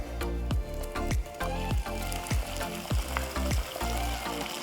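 Garlic and leftover beef rendang sizzling in a hot pan for pasta, a steady crackling fry punctuated by regular loud pulses of stirring or tossing, with no voices.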